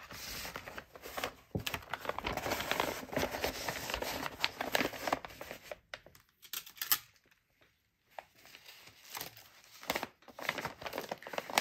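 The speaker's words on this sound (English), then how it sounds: "using this piece of tape, I'm going to tape up my setup" Tape pulled from a roll and pressed onto a paper-lined leech shipping package, heard as close, intermittent crinkling and ripping bursts with a short quiet pause partway through.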